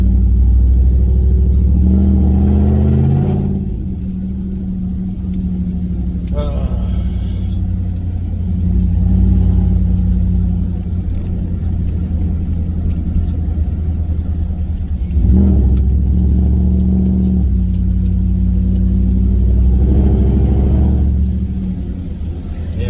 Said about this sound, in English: Misfiring a little bit too, guys, because of hitting limiter